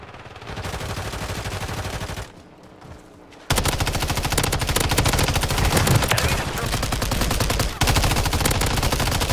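A machine gun in Call of Duty Warzone emptying a full magazine: a long sustained burst of fast, loud shots, with a short pause partway through, then uninterrupted fire to the end.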